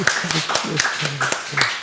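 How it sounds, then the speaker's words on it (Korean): A church congregation gives welcoming applause during a worship service. It comes as a steady, rhythmic beat of roughly seven or eight claps, fairly close, with faint voices underneath. "환영의 박수 하겠습니다"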